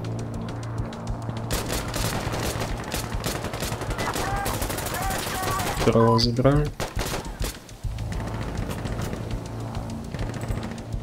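Repeated gunfire bursts ring out in Insurgency Sandstorm, a tactical PvP shooter game. The shots are loud and sharp, running through most of the stretch with a dense cluster near the middle, while someone speaks briefly over them.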